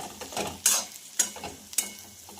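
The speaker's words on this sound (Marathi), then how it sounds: "त्यानंतर यामध्ये जाणार आहे आणि हलकसे याला असं फ्राय करून घ्यायचं आहे।" Potatoes fry in a pan as they are stirred, a soft steady sizzle broken by three sharp scraping strokes of the spoon, close up and without talk.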